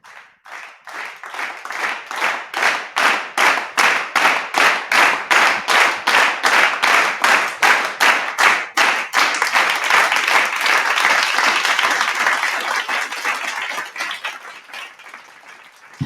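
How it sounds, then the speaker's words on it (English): A studio audience gives guests a warm round of applause: loud, close, rhythmic unison claps at a quick steady beat that then dissolve into a dense, continuous roar of clapping before fading near the end. "let's give them a warm round of applause here"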